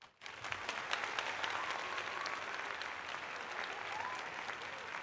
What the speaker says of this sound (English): Applause, my friend.